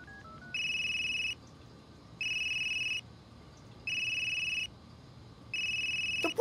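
A phone rings four times with steady electronic trill bursts separated by even pauses, heard after dialing in a video game, set against a faint background hum and ending with a short click.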